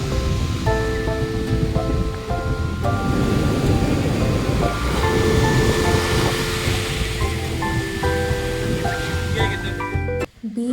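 Waves wash in continuously at a beach in Kerala, giving a steady, full roar of surf. Music with sustained tones plays over the water, and voices can be heard faintly in the background.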